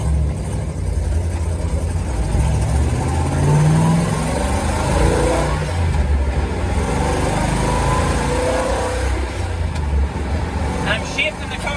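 A carbureted car engine fitted with bigger carburetor jets pulls hard and revs under acceleration, a loud rising and falling drone heard from inside the car while someone talks over it.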